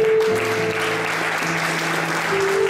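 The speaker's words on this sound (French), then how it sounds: "Acclamez le Seigneur." A church congregation applauds steadily and loudly throughout, with a sustained sung or held tone running underneath the clapping.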